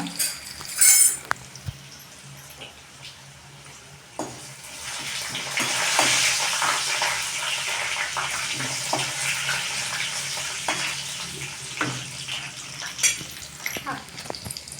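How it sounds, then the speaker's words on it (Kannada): Broken Byadgi red chillies fry in a pan of oil, giving a steady, close sizzle that swells after a few seconds and holds, with occasional light clinks of a utensil. "ಬ್ಯಾಡಗಿ ಮೆಣಸಿಕಾಯನ್ನು ಒಂದು ಎರಡು ಮುರಿದು ಹಾಕ್ಕೊಂಡು ಬಿಡ್ಬೇಕು ಚಲೋತ್ನಾಕ ಎಡ್ಸ್ಕೊಡ್ರಿ ಇದನ್ನು"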